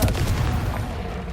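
A Confringo spell blast in the Hogwarts Legacy video game: a dense, loud booming burst, strongest at the start, that rumbles on steadily as a heavy explosive roar.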